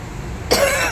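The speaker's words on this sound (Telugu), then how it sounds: "అప్పుడే చూడండి, అప్పుడే దగ్గు వచ్చేస్తుంది" One short, sharp cough from a man, close and clear, breaks a quiet indoor room tone.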